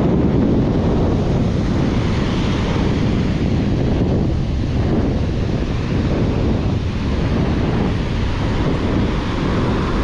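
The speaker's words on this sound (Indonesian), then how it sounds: "Jadi ombaknya itu nggak begitu besar sih." Steady wind and rolling ocean surf at Jetis beach in Purworejo, with modest waves, a continuous loud wash with heavy wind buffeting on the microphone.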